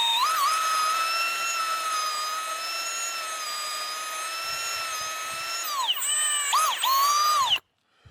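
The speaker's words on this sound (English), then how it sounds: "drill a hole, slightly upward angle, so that the sap will flow down from it" A cordless drill bores into a maple tree trunk, whirring at a high steady pitch for several seconds, dipping and revving up again a couple of times near the end, then stopping abruptly.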